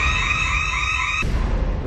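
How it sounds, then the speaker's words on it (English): A home motion detector alarm sounds a loud, sustained electronic tone for over a second, then gives way to a harsher, noisier blare that continues to the end. "You step out in any of this area, sets the alarm off immediately."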